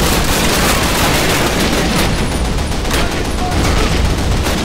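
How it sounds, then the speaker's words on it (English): Heavy gunfire and explosions from the PC shooter Call of Duty, a dense, loud, continuous barrage of shots and booms filling the whole stretch without pause. "Here, every weapon, every explosion has a huge punch to it."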